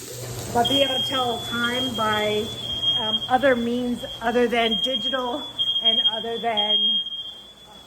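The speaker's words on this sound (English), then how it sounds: "this fire alarm goes off at everything" A household smoke alarm that goes off at the slightest trigger sounds one continuous high-pitched tone under steady talking.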